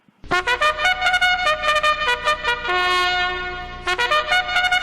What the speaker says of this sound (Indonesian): Tadi suara apa itu? Ya, itu adalah suara trompet.